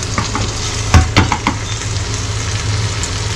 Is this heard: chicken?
no